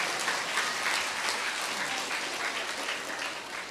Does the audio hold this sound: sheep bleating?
no